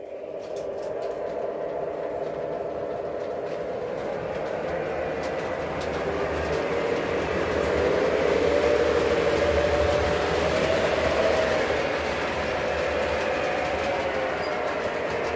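A model Alco diesel locomotive runs steadily with a motor hum and rising whine that swells mid-clip, accompanied by soft track clatter.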